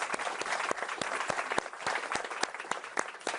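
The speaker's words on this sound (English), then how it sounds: "Let's give them a round of applause." An audience at an AI summit session in Paris applauds, a dense, steady round of clapping from a medium-sized crowd that holds through the whole stretch, without talk.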